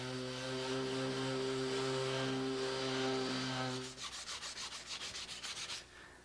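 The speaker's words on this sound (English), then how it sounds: "I want to turn to my sander and feather all the edges so that they just blend in with the wood" Power sander feathering fiberglass-taped edges on a homemade wooden boat hull, a steady droning whine with a tonal hum that gives way to rhythmic rubbing strokes as the tool works the wood.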